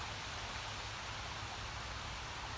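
Rain falls steadily outdoors at a gold panning site after dark, a soft, even hiss of drops on the ground with no breaks and no voices.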